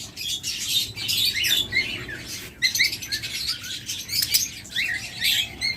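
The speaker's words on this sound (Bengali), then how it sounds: "দেখুন একদম সুপার কোয়ালিটির পাখি" Caged pet birds in a bird shop chirp and tweet continuously, a dense overlapping chorus of bright, rapid calls up close with no talking.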